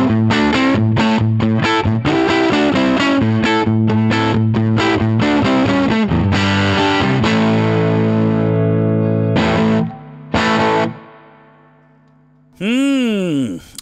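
Electric guitar through an overdriven Souldigger amp on the neck pickup, loud distorted chords strummed rhythmically, then sustained ringing notes fading, with a brief warbling swell at the end.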